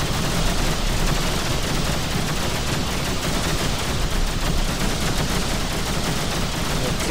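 Continuous dense weapons fire in the space game X3 Terran Conflict, a loud steady barrage of rapid shots with rumbling bursts throughout and no gaps.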